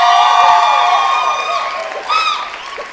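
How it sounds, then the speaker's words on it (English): A noisy crowd at a university convocation cheers and shouts loudly, with overlapping voices and some applause, a dense burst of excited noise that swells again briefly near the end. "Oh, the noisiest crowd yet."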